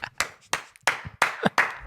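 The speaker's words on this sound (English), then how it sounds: "I'm going to clap myself" A single person claps alone on a podcast, about six sharp, close hand claps at an irregular, unhurried pace with short silences between them.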